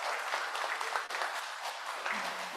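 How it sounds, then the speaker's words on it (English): Audience applause at an Australia–Indonesia energy transition conference, a dense steady wash of many hands clapping at moderate distance, filling the room continuously without pause. "please give a round big applause for the speakers"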